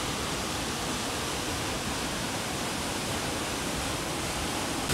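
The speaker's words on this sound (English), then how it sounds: "And this is the waterfall. Just look how majestic it looks." Broad, steady roar of a waterfall in Triglav National Park, Slovenia, a dense continuous rush of falling water heard close and loud, unbroken for the whole stretch with no voices.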